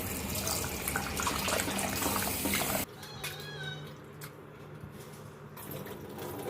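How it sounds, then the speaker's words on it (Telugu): Tap water runs steadily and fairly loud while squid are washed in a kitchen sink, then cuts off abruptly, leaving quieter faint handling and splashing sounds. "ఇప్పుడు వీటిని 2 సార్లు వాటర్తో కడగాలి."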